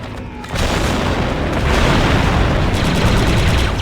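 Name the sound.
demolition charge detonating in Star Wars Republic Commando, video game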